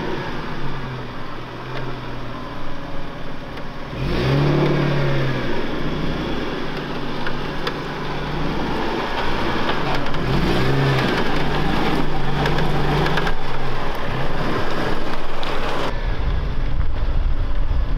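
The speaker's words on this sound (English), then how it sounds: "You're gonna have to get on the gas to bump up 2 tons of house up the ledge." A 4x4 overland truck camper weighing about two tons climbs a rock ledge on a jeep trail, its engine droning loudly and surging as it revs, with rumbling wind noise throughout and no talk.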